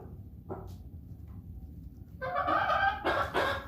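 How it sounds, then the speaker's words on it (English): Soft, low clucks from a rooster calling hens to food, then a burst of louder, rapid chortling calls near the end, close by with no one talking. "all those chuckle clucks there as he's tidbitting for the girls"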